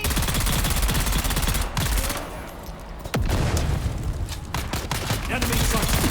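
Rapid automatic gunfire in the survival video game Dune hammers out in fast, steady bursts at close range, dips briefly, returns with one sharp loud shot, then resumes a continuous rattle.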